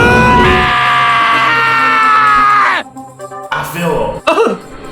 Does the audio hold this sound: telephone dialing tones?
no